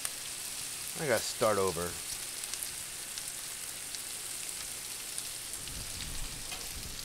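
Steady broadband sizzle of bacon, mushrooms and onions frying on a Blackstone griddle, constant and close, with someone briefly speaking over it early on.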